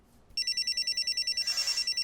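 Telephone ringtone ringing in a home kitchen, a steady electronic trill of rapid evenly spaced pulses that starts after a brief quiet moment and continues loud and close, with no talk over it.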